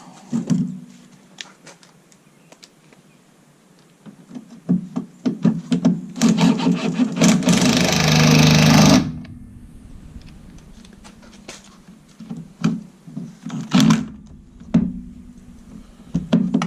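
A power gun drives 10mm bolts into a pickup truck's Road Armor bumper, giving one dense, loud two-second burst of whirring and rattling amid quieter shop clatter and scattered knocks.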